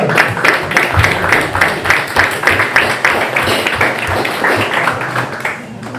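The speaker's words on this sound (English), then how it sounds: "Round of applause for Rufaro." Audience applause at a live debate event on whether Donald Trump is good for the world, a dense steady patter of many hands clapping for about six seconds before tapering off at the end.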